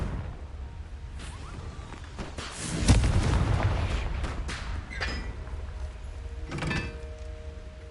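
A Confringo fire spell bursts in Hogwarts Legacy with a sharp, deep boom near the middle, preceded by whooshing casts and followed by crackling rumble and another sharper hit later, set amid busy game effects.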